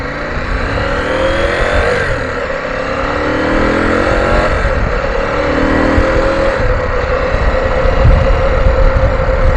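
A motorcycle fitted with a Puig touring windscreen cruises at speed, engine drone mixed with loud, steady wind rush that swells slightly as it travels, no talking.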